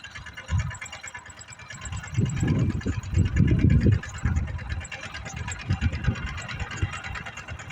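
A tractor engine running on a farm during sowing, a steady rhythmic chugging that swells louder midway and then settles back.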